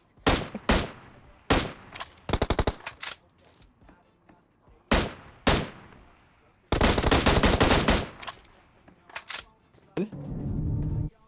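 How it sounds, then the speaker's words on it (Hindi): A bot fires on the player in PUBG Mobile, the gunfire arriving in loud, sharp single shots and rapid automatic bursts, including one sustained long volley, with gaps between the bursts. "लेकिन ये बॉट फायर देता जाता है फिर भी।"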